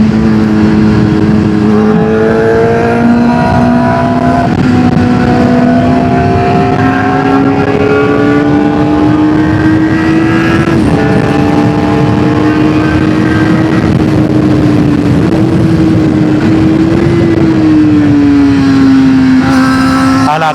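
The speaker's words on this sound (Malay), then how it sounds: "kereta ni kacau lah." Car engine revving loudly and steadily close by, a sustained droning whine that rises slightly in pitch, alone and filling the whole stretch.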